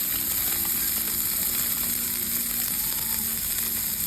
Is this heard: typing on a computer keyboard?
no